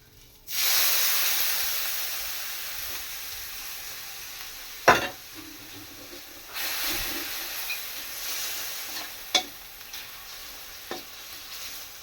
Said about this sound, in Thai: คลุกเข้าให้เข้ากันนะ แกงขั่วเนื้อ